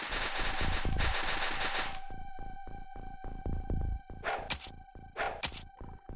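Gunfire in the video game XCOM: a long, loud automatic burst, then a sequence of sharp rhythmic single shots and two short bright bursts, heard alone without talking.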